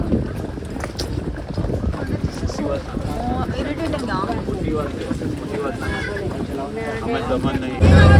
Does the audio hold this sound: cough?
no